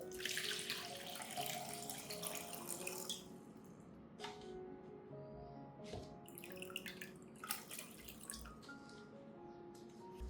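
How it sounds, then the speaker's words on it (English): Water pours and splashes into the base of a potted orchid, a bright continuous trickle at first that breaks into intermittent splashes and drips, close and fairly quiet, with no voices. "I'll remove the peat and replace all the water at the bottom with clean water."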